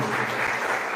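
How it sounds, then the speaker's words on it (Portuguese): Church congregation clapping for a visiting pastor at an evangelical service, a brief, continuous wash of applause filling the room. "uma salva de palmas para o pastor original"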